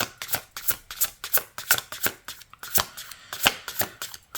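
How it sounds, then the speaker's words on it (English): A tarot deck is shuffled in quick, crisp riffling bursts, a rapid papery flutter repeated many times, close up and otherwise quiet. "Struggling to shuffle this deck."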